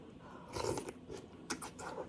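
Quiet, close-up bites and soft crunches from eating misua noodle soup with sardines and fish fillet, a few short chewing bursts with no talking.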